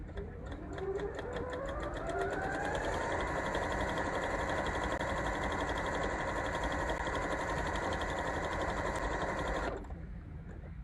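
A sewing machine stitching fabric on a fusible grid, running at a steady, fast hum with a fine rhythmic needle chatter and rising pitch at the start, close and continuous, stopping abruptly near the end.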